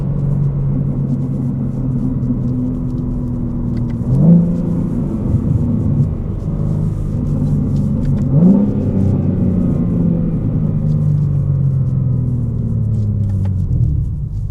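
A 503 hp BMW M3 Competition rumbles and accelerates on the road, with deep exhaust revs rising through two gear changes, loud and close, no voices.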